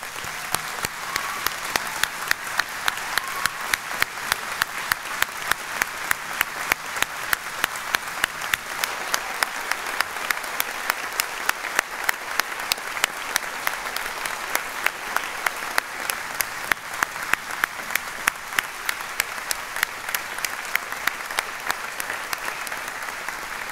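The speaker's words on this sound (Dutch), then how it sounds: "En wil ik u allen nu uitnodigen om uw waardering voor hen te tonen met een warm applaus." A large audience gives sustained warm applause for graduates at a university graduation ceremony, steady dense clapping with sharp rhythmic claps standing out near the microphone, continuing evenly throughout.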